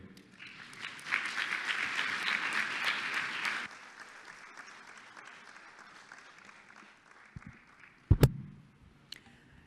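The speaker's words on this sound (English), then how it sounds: "Applause is in order." Audience applause at a Model United Nations Human Rights Council session as a draft resolution is adopted, swelling steadily for a few seconds, then fading to scattered claps before a couple of loud knocks.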